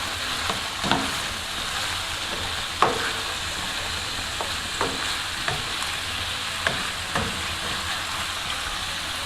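Shrimp sizzle steadily in tomato sauce in a hot pan while a utensil stirs through it, leaving sharp scraping clicks every second or two over the constant frying hiss.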